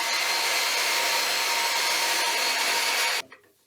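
A power tool cuts steadily through a broken wooden baseball bat being shortened on a lathe, a loud continuous whining buzz that stops abruptly near the end.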